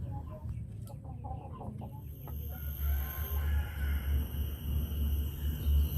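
KUB chickens, an Indonesian native breed, clucking close by, with a rooster crowing briefly early on, over a low steady rumble of background noise.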